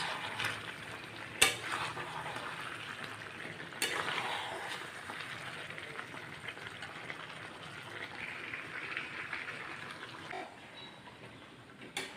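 Mutton curry is sautéed and stirred in a pan, a soft continuous sizzle broken by a couple of sharp spoon scrapes and knocks, low and close.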